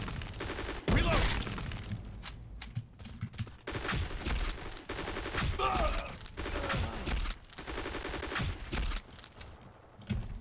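Gunfire from the Black Squad shooter game, with bursts of automatic fire, single shots and weapon handling clatter packed densely together, while a player talks now and then.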